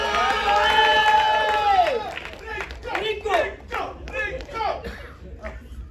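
Stage audience clapping and cheering for actress Rinku Rajguru as a host's voice rings out over it, the applause continuing as a bright crowd roar beneath overlapping voices.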